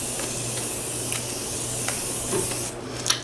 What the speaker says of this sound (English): I just want to keep spraying this stuff.